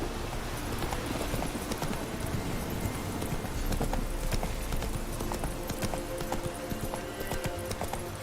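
Roach, a horse in The Witcher 3, gallops in a quick, steady run of clip-clop hoofbeats that carries on throughout, close and clear, with no talking.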